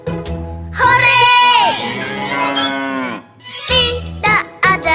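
A cow mooing sound effect, a long loud drawn-out moo followed by shorter calls, close and clear with no talk over it.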